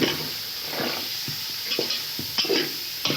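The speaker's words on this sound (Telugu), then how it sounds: "టమోటా పండ్లు కలుపు గౌడు" Tomatoes being stirred into a pan of chicken curry produce a soft, steady sizzle punctuated by several scraping spoon strokes and light clinks, close and clear with no talking.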